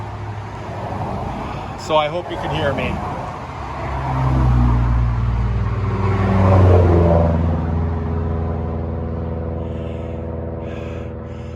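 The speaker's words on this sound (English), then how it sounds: "And sorry for the noise. This time of the day on a Friday, there's just never going to be any lapse in the traffic." Steady Friday roadway traffic rumbles throughout, with cars and trucks passing and swelling louder midway, under someone talking close by.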